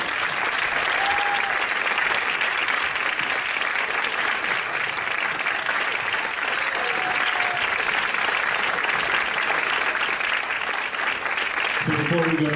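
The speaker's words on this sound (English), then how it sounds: "Another round of applause, please." Sustained audience applause at a documentary talk-back event fills the room, loud and steady throughout with dense, even clapping, brief voices surfacing near the end.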